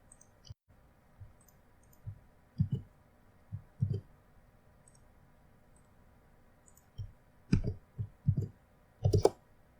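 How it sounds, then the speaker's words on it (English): Keys are pressed on a computer keyboard, a sparse series of soft, close clicks in small clusters with quiet pauses between, no voice present. "paste this command on the PowerShell window and then hit the Enter key on the keyboard."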